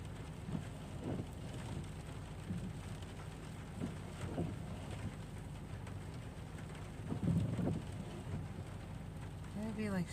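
Hard rain falling outside, a constant broadband wash with low rumbling, heard at moderate level behind faint movements and occasional soft bumps, no clear voices over it.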